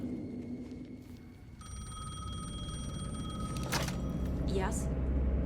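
A telephone rings in the video game Alan Wake, an electronic trilling ring starting partway through and repeating steadily over a low ambient drone, with a brief swooping tone near the end.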